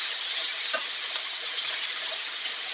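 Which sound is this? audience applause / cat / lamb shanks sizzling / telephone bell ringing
lamb shanks sizzling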